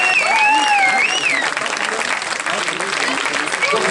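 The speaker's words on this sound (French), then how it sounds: "On peut les applaudir." Applause at a charity raid event in Seyssel, a broad steady wash of clapping from a crowd, with a whistled or sung melody line and murmuring voices over it at the start.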